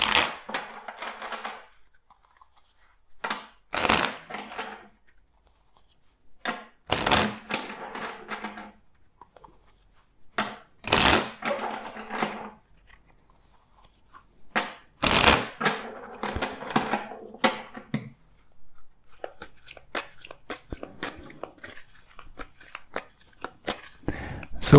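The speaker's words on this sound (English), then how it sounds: "let's shuffle the deck four times." A tarot card deck is shuffled several times in bursts of crisp riffling and flapping, each run separated by short quiet pauses, with softer card handling toward the end.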